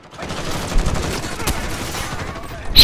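Sniper rifle fire in a video game, with a double headshot collateral kill: a sharp crack at mid-clip and another loud shot at the end, over steady game background noise.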